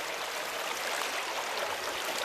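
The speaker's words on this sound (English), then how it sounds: "If you go closer to it you'll see the water moving down" Water pours down into a sinkhole outdoors in a steady, hissing rush, like a small stream or falls, even and unbroken at moderate loudness, with no voices over it.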